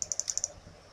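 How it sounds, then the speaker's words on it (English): A computer mouse clicks six times in a quick run, faint and close, then falls quiet under a low room hum. "I'm sorry if you can hear some kind of background noise or my mouse clicking"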